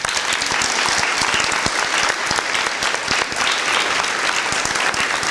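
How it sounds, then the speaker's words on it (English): An audience at a fifth grade promotion ceremony at an elementary school claps for parents and teachers, producing dense, loud, sustained applause close by that holds steady from start to finish. "Now it's your turn to give them a round of applause."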